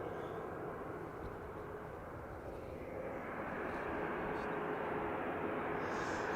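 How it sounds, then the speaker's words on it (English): A jet airliner takes off down a snowy runway at Manchester Airport, a broad continuous engine roar that holds steady and grows slightly louder, heard from a distance. "It blasted down the runway and kicked up all the snow and the moisture."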